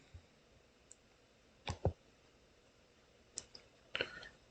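A few sharp computer mouse clicks land in quick, separated pairs and singles against a quiet room background, close and crisp.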